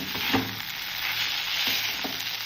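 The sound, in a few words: mixing flattened rice (poha) in a hot pan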